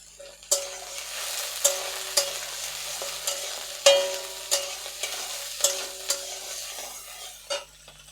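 Chopped green chillies being stir-fried in a pan for fried rice, with a run of sharp spatula scrapes and clinks against the metal, roughly one every half second, over a soft steady sizzle; close and fairly quiet, no talking.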